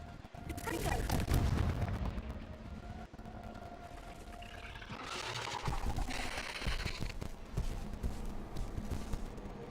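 Fire-based Confringo spell blasts boom and crackle in the Hogwarts Legacy video game during a fight, heavy bursts over continuous battle noise, with a player's voice talking.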